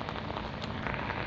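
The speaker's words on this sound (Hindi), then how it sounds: "बारिश शुरू हो गई है तो आपको बारिश की कुछ बूंदों की आवाज़ सुनाई देगी" Rain is falling, with a dense, steady patter of drops hitting a surface. The sound is soft and continuous, with no voices.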